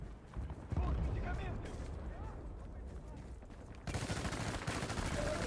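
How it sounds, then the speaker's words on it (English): Gunfire in the video game Battlefield: Bad Company 2, a steady mix of shots and battlefield noise that turns louder and denser near the end, with voices talking over it. "Shoot that guy! Shoot that guy! Shoot that guy!"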